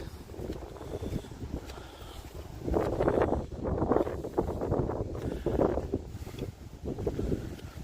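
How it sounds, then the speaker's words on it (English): Gusty wind buffets the microphone in rough, rumbling waves that swell and ease, with no voices. "It's a little more windy than some visits"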